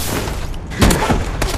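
Gunfire in Call of Duty Advanced Warfare, with a loud, dense burst of rapid shots and booming impacts over steady game noise.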